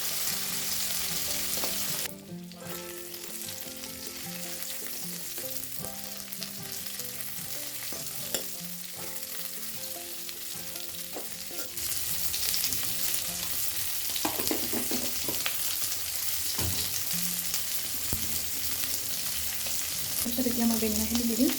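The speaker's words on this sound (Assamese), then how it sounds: "এতিয়া অলপ ফ্ৰাই হোৱালৈকে ভাজি লওঁ।" Crab pieces fry in hot oil in a pan for a brinjal dish, a steady close sizzle running throughout with occasional stirring scrapes and no talking.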